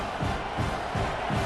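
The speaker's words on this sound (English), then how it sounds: "This crowd busting the decibel meter and trying to will a 4th down stop." A stadium crowd roars steadily during a 4th down play at a college football game, TCU at Ohio State, forming a dense, loud wall of noise with slight rhythmic swells.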